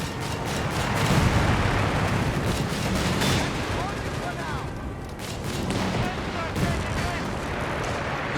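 Gunfire and explosions from a Company of Heroes 3 team match, Wehrmacht and DAK against US and UK forces, roll on as dense continuous battle noise with crackling shots and booms under a commentator's voice.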